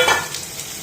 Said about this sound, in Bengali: এবার আমি গাজর আর বিটটা দিয়ে দেবো।